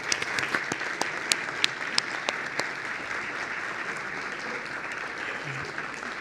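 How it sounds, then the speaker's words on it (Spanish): Audience applause at a business conference as guests are sent off, sharp near claps at first that settle into a steady, moderate patter from the crowd. "los despedimos con un fuerte aplauso"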